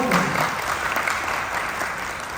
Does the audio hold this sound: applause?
yes